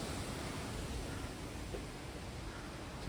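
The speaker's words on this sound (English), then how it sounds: "It's too windy." Strong wind buffets the microphone outdoors near wetland bird hides, a dense steady roar of rumbling noise with no break and no voices.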